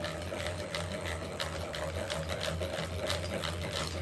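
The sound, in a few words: hand-crank butter churn gears turning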